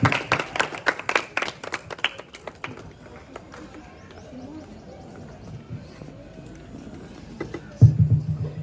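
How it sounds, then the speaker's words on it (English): An audience at a school army drama event applauds a retired army colonel, with a burst of clapping that fades into quieter room noise and a voice. "Let's give her a round of applause."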